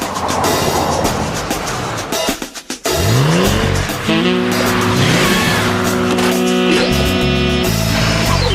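A Ford Territory Turbo with 245 kilowatts and all-wheel drive revs hard and skids in a TV ad, loud engine roar and screeching tires, a brief dip, then sustained rising engine tones and squeals.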